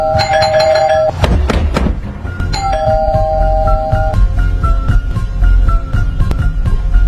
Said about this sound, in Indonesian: tiba-tiba mendengar suara bel berbunyi